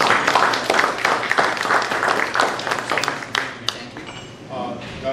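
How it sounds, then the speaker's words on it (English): Audience at a chamber of commerce panel event gives a round of applause, dense clapping that gradually thins out and fades toward the end, with a brief voice over the tail. "Let's give everyone a round of applause."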